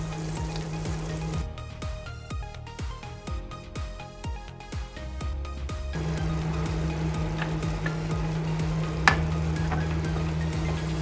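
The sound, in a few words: paneer frying and being stirred in pan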